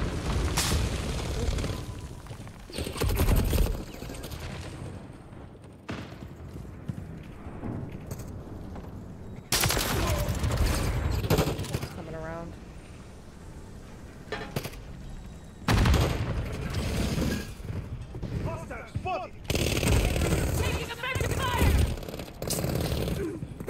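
Call of Duty gunfire in a dense multiplayer firefight: heavy booming bursts and sustained rattling shots come in loud waves, with brief quieter gaps and faint talk beneath the noise.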